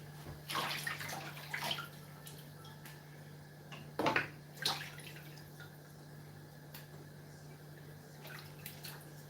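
Two fresh peppers being washed in water, a few splashy swishes and drips close by that come in short bursts, quiet over a steady electrical hum.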